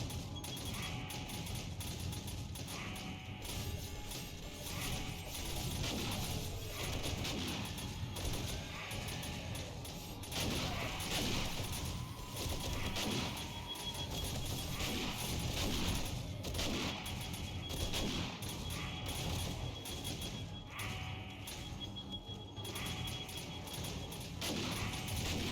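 Shotgun traps in 7 Days to Die, eight aimed at the bottom of a staircase, fire continuously into a zombie horde, a dense, loud barrage of overlapping blasts and crashes with no pauses.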